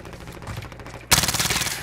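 Hostile gunfire in the video game Call of Duty Warzone, a loud burst of rapid automatic shots that starts abruptly halfway through after quieter background game noise.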